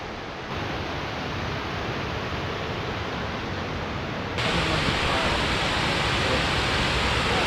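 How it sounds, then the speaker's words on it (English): A waterfall on Ireland's Wild Atlantic Way roars as a steady, loud broadband rush that turns fuller and louder partway through, with no voices. "Waterfall's absolutely stunning."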